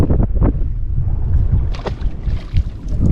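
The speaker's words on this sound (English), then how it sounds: "It's windy, so I'm gonna try to talk loud so you can hear me." Wind roars and buffets the microphone in loud, uneven gusts on High Rock Lake while bass fishing, with some faint background sounds mixed in.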